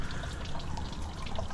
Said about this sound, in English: I'm sure you can see and hear a bit of a puddle here forming.